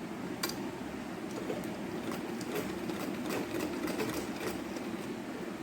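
A sewing machine stitches lace blouse sleeve pieces, running steadily close by with a continuous whirring drone and faint ticking throughout, no voices.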